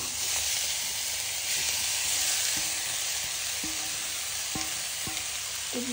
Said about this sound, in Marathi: आता आपण हे बारीक करून घेतलेलं बटाटा घालू याच्यामध्ये आणि ते परतून घेऊ